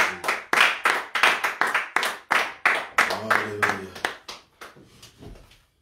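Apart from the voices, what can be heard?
congregation clapping for Jesus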